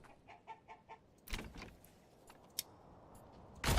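In the medieval city-building game Manor Lords, chickens cluck in a short series of soft, evenly spaced calls. Then a few sharper rustling and clattering bursts follow, fairly quiet and alone without speech.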